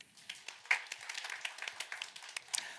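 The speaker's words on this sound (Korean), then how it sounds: "박수 한번 주세요." A young adults' church congregation gives brief applause during a Korean sermon, scattered sharp hand claps from a modest group, fairly quiet and uneven over a few seconds.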